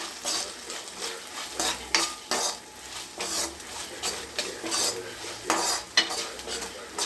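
Ginger garlic paste being stirred into a cooking pan, a spoon scraping and clinking against the metal in repeated strokes over a soft sizzle, close and fairly loud.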